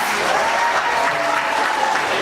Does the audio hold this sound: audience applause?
yes